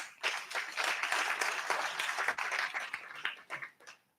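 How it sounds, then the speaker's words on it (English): Steady applause from a large audience at a press club awards evening, a dense patter of many hands clapping that fills the room at moderate level and thins out toward the end. "I just hope that we'll give each other, ourselves, a big round of applause."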